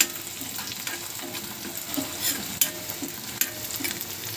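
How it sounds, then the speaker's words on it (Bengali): Garlic and onion frying in oil for a tempering for beef kala bhuna: a steady close sizzle with a few sharp clicks of a spoon stirring in the pan, no voices. "রসুন পেঁয়াজ ভাজা হচ্ছে।"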